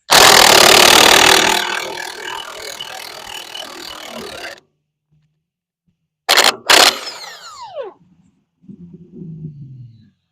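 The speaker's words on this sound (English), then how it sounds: "there was a very unkind gentleman with his loud exhaust" A vehicle with a loud exhaust roars past in a residential neighbourhood, a sustained blast that fades out and is followed by a second short burst of revving, with quiet gaps in between.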